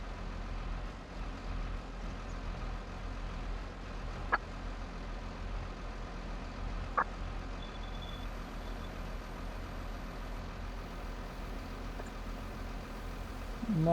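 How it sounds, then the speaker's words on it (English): A John Deere tractor engine runs steadily on a farm, a continuous low diesel drone with a couple of brief sharp clicks and a rise at the end, heard alone without talk. "Not too shabby there, John Deere tractor."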